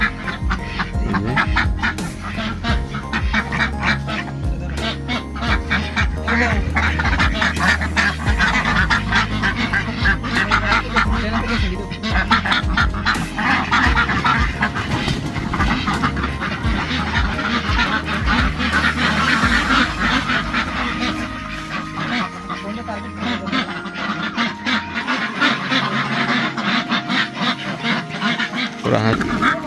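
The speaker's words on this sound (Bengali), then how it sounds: "আমরা হাঁস নিয়ে নিলাম অবশেষে।" A flock of ducks on a South Korean duck farm quacks and honks loudly and continuously, many birds calling at once close by, with a little background voice and movement noise.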